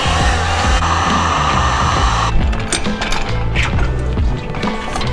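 Heat gun blowing hot air onto a Volkswagen GTI fender during DIY fender rolling, a loud continuous whooshing hiss that drops away partway through, leaving clicks and handling noises.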